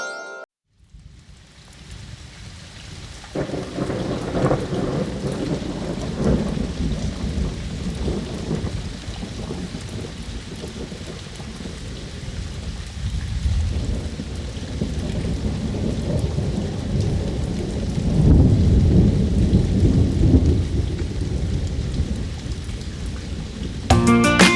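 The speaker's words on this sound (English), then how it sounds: "It's raining, it's pouring" Steady heavy rain pours down with deep, rolling thunder rumbling through it, growing louder toward the end.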